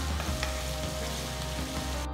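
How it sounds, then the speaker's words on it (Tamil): A large, finely chopped onion with spices sizzles in hot oil while it is sautéed until golden for a tomato kurma, a steady, close frying crackle with no talk. "இது கூட பொடுசா நறுக்குன ஒரு பெரிய வெங்காயம் சேர்த்து நல்ல பொன்னிறமா வர வரைக்கும் வதக்குங்க"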